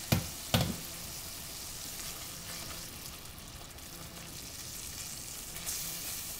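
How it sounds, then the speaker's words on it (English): Spinach puree hits sizzling spices in a pan with a couple of sharp knocks at the start, then a steady low frying hiss as it is stirred in. "add the spinach puree into this. You want to go ahead and add it in and mix it up really well."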